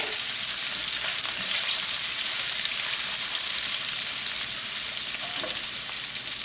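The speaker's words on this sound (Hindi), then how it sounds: "इसमें डालेंगे हम हरी मिर्च और इसको भी हम अच्छे से सौटे कर लेंगे।" Green chillies sauté with garlic in hot oil for lauki kofta curry, giving a loud, dense, unbroken sizzle that holds steady from start to finish.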